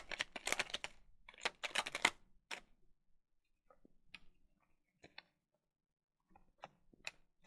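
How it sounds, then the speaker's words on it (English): Cards are shuffled for a tarot-style reading: quick bursts of riffling and flicking up close, then sparse, separate taps and card clicks with quiet gaps between them. "I think I'm going to just shuffle one more time"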